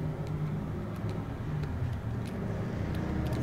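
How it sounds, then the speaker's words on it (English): A loud road vehicle passing outside, a steady broad low rumble holding for several seconds with a few faint clicks on top, no talking. "everybody with their freaking loud vehicles are out and about and being a nuisance"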